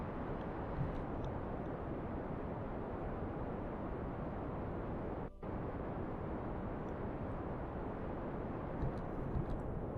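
A steady, broad roar from a rocket engine in the video game Kerbal Space Program, near orbit over Duna. It holds a constant loud rumble with one brief dip partway through and no clear change in level.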